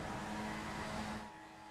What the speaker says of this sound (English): the revs on the Skip Barber race cars now start to build